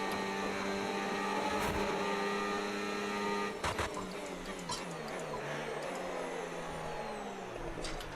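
F1 cars racing at Yas Marina in a video game give a steady high-pitched engine whine with shifting tones, layered with a faint crowd roar and brief louder bursts from passing cars.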